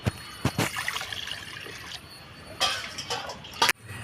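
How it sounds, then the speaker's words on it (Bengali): Water poured into a kadai (wok) while cooking lentils with jute leaves sounds as short splashing, trickling bursts, a few separate pours close by with quieter gaps between them. "কড়াই জল দিয়ে দেবো"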